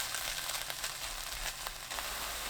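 Dried gondre greens stir-fry in a pot over high heat with a steady, close sizzle and faint scraping of stirring throughout, no voices.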